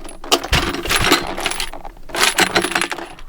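Spent 9mm brass shell casings clink and rattle against each other in several jingling bursts, close and bright, with short pauses between handfuls and no voices.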